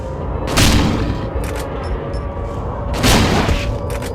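Shotgun blasts in Silent Hill 2, fired at an enemy: two loud, sharp booms about two and a half seconds apart, each with a brief ringing tail, over a steady rumbling game ambience.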